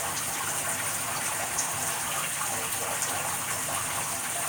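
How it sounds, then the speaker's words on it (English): Steady running water from a tap, a continuous broadband gush holding even and fairly loud throughout with no voices. "You can get negative ions from any running water source."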